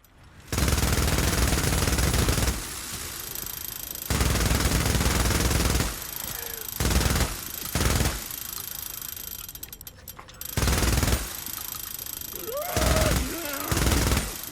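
A gun called the Growler in the Days Gone Remastered video game fires in loud automatic bursts, each lasting a second or two, separated by quieter mechanical clicks and handling noises, with no talking.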